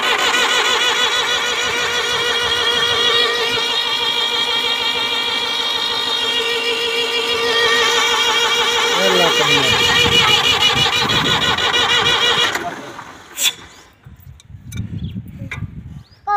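A motorcycle engine running with a rapid buzzing, rattling idle, loud and close, then cut off abruptly, leaving brief clicks and a low rumble near the end.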